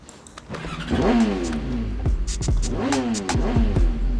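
A motorbike engine in Sleeping Dogs revs hard twice, each throttle burst climbing in pitch before dropping back, with loud, close engine roar under light background noise.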